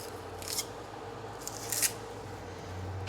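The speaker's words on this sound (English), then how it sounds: "Peel this onion." A sharp knife peels the papery skin off an onion, a few soft crisp scrapes and rustles close by over a low steady hum, with no talking.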